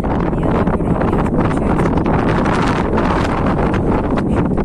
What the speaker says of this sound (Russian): Сегодня, правда, ветер такой. Может, плохо слышно.